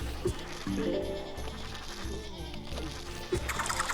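Cartoonish sheep bleats from Plants vs. Zombies 2 gameplay, several short bleats at irregular intervals over busy game music and effects, fairly close and moderately loud.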